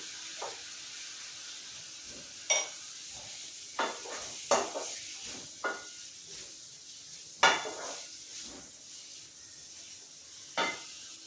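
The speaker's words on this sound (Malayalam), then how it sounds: "സവാള നന്നായിട്ട് വൈണ്ട് വരട്ടെ" Onions cooking with salt in a pan for a Kerala-style meal, with a soft continuous sizzle and scattered sharp clinks of a utensil stirring against the pan, moderately close.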